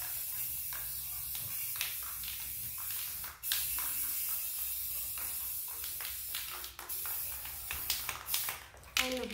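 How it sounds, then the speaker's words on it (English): Steady hissing spray from an aerosol spray paint can painting a dresser runs continuously, with a few short clicks and taps near the end. "I just spray over it, and then I should be done."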